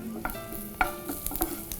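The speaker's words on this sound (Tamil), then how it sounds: "இப்போ இந்த வெண்ணெய் உருகுனதுக்கப்புறமா இதில் இந்த நறுக்கி வச்சுருக்க பூண்டு நல்லா பொடியாக நறுக்கிக்கோங்க" Finely chopped garlic frying in melted butter in a pan for pasta, a soft close sizzle with light stirring clicks and scrapes.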